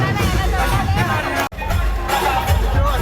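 Dense crowd chatter fills a Marathi haldi ceremony: many overlapping voices murmur continuously and fairly loudly, with a brief sudden dropout midway before the hubbub resumes.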